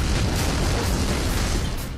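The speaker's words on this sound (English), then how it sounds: "Big explosions seem to be a general theme in the Ballad of Gay Tony." Loud, dense rumbling blasts from big explosions in the GTA IV episode The Ballad of Gay Tony, a continuous roar of booming detonations filling the whole moment with no talk.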